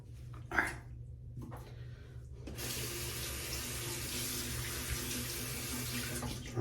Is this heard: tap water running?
yes